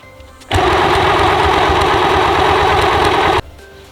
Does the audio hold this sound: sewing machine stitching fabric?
yes